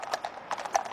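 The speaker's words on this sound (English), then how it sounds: "the rein-back, where the horse is asked to walk backwards, exactly 10 lengths in a perfectly straight line" Horse hooves striking the ground at a walk during mounted drill practice, a handful of close, crisp clip-clop beats in an uneven rhythm, with no talking.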